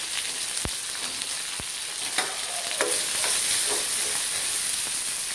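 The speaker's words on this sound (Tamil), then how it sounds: "தேங்காய், பூண்டு, இஞ்சி, காய்ந்த மிளகாய் 3, புளி அனைத்தையும் சேர்த்து வறுத்து கொள்ளலாம்" Coconut, garlic, ginger, three dried chillies and tamarind dry-frying in a pan, a steady close crackling sizzle with a few sharp utensil taps and scrapes near the start, no voices.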